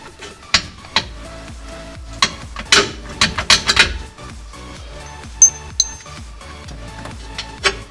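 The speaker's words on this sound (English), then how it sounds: "we're going to remove these differential brace bolts." A hand ratchet loosens the rear differential brace bolts under a Subaru WRX raised on a jack, giving close, irregular bursts of quick clicking and metallic clinks with a few sharper knocks and brief pauses, with no voices.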